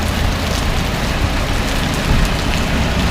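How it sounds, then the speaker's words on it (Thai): Steady rain pours down in the town of Prasat, Surin, Thailand, a dense, even hiss of drops hitting surfaces throughout. "ฝนก็ตกลงมาพอดี"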